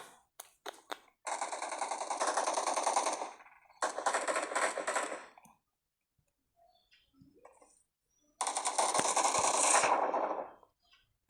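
Kar98 bolt-action rifle fire in a multiplayer shooter game: a few sharp early cracks, then long dense bursts of gunfire loud in the foreground, separated by gaps of near silence.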